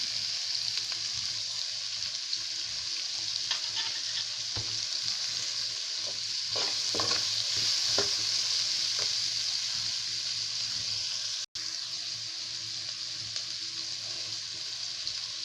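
Raw green mango tossed into vegetables frying in a pan gives a steady, close sizzle of hot oil, with scattered stirring scrapes and small clicks running through the middle; no one speaks.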